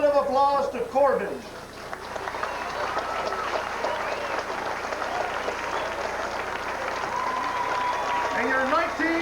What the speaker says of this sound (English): Let's give a big round of applause to Corbin.